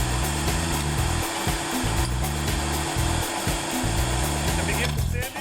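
A Ryobi desktop belt sander runs with an industrial vacuum attached to its dust outlet, a steady close motor whine and airflow hum with fluctuating low grinding tones, no speech.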